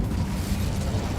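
Incendio fire spell cast in the video game Hogwarts Legacy, a dense low rumbling burst of flame that roars steadily for about a second with no pause.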